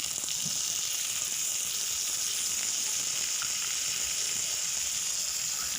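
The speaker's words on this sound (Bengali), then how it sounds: "এর মধ্যে আমি দিয়ে দেব টমেটো কুচি" Chopped tomatoes frying with onions in a pan for pasta, a steady crackling sizzle with a constant hiss, close and even throughout, with no voices.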